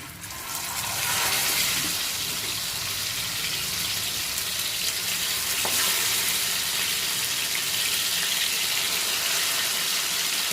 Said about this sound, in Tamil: எண்ணெய் காஞ்சிடுச்சிங்க இப்போ வந்து சிக்கனை வந்து அப்படியே ஒவ்வொன்றா அப்படியே போட்டு வைக்கிறோங்க